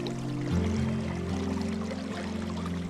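The Breiðdalsá river flows over rapids and waterfalls in a steady, broad rushing wash of water, with a low hum underneath and no other sounds standing out.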